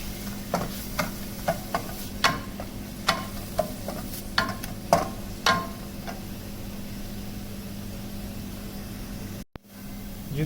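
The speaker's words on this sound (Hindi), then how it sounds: "सबसे पहले इसके अंदर प्याज आएगा। प्याज को हमने इसके अंदर गोल्डन ब्राउन करना है।" Onions frying in a pan until golden brown, a soft steady sizzle with a series of light stirring scrapes and taps every half second or so, then quieter sizzling alone.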